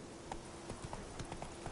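Hooves of the horse Roach clip-clopping in a video game, a quick even rhythm of close, distinct hoofbeats at a gallop-like pace, without talk.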